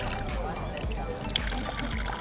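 Water trickles steadily from a tap or fountain in Taormina, Italy, a close, continuous splashing flow with a voice faintly audible underneath.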